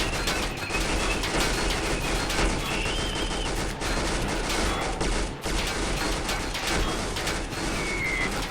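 Turret gunfire in the RimWorld video game rattles as a dense, loud, unbroken stream of rapid shots with scattered mechanical clanks mixed in, with no talking.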